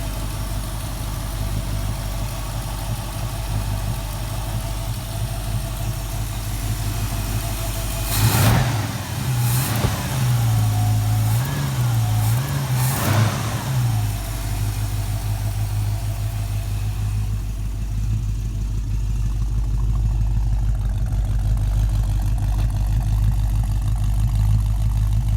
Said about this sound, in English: I'm going to just show you a short clip of the car running